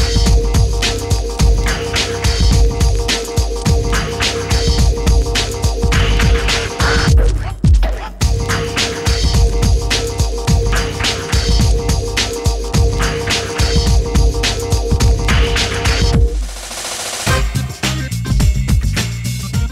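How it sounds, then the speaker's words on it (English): A Toyota Vios strapped to a dyno for tuning, its engine holding a loud, steady droning hum with throbbing undertones, broken by two brief dips as it comes off and back on. "we're going to be putting the car on the dyno and we're going to be tuning it there"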